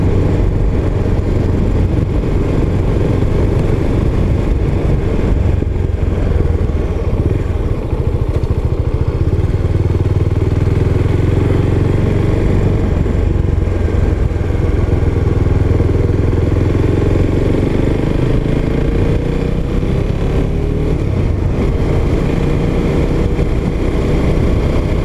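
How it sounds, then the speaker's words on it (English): Husqvarna Vitpilen 701 single-cylinder street motorcycle on a first ride, its engine droning loud and steady for the whole stretch under heavy wind and road noise, with no voices. "Husqvarna 701 Vitpilen."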